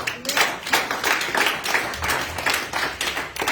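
Church congregation clapping to acclaim the Lord during a worship service, a crowd of hands beating in a steady rhythmic pattern, close and lively, continuous for several seconds.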